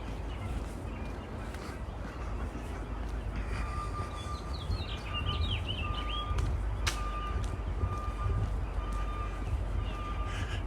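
A garbage truck reversing near a misty lake in Regina, its beeper sounding as a repeated steady tone in the distance over outdoor ambience, with a few chirpy bird-like calls mixed in.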